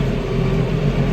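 A tractor pulling a New Holland hay baler through a first-cutting hay field drones steadily and loudly close by, with no voices.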